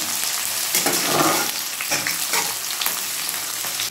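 Chopped onion hits hot mustard oil already seasoned with a dried red chilli and five-spice seeds, giving a steady close sizzle and crackle with a few stirring scrapes and no talking.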